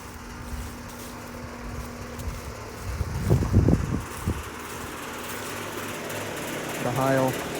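A 2007 Carrier 2-ton base model heat pump runs in heat mode outdoors on a cold morning, giving a steady fan whir and low mechanical hum while a person talks over it.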